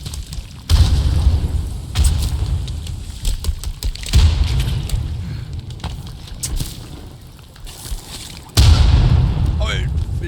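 Several loud, booming explosions burst in the survival video game Sons of the Forest, each a sudden heavy blast that fades into rumble, with players talking between them.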